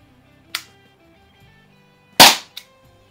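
An Umarex T4E TR50 .50 caliber CO2-powered revolver fires two sharp pops, the second louder, followed by a brief impact crack, close and alone in a quiet setting.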